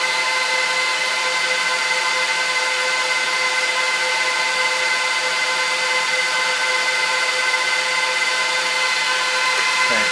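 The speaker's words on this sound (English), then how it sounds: "Those hard drives are fully spun up by now." A Dell PowerEdge 1750 server runs with its hard drives fully spun up, giving a constant loud whir and whine of fans and drives with steady tonal hum and no breaks.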